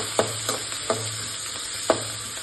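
Green chillies sauté in hot oil in a pan with a soft steady sizzle, broken by a few sharp spatula scrapes and stirs at irregular intervals, close and fairly quiet.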